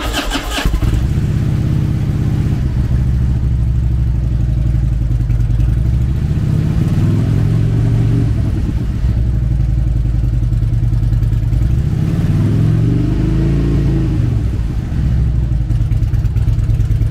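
A 2006 Harley-Davidson FLHR Road King with a Twin Cam 88 cubic-inch engine starts and then idles with a loud, close, lumpy rumble, swelling twice into throttle revs before settling back.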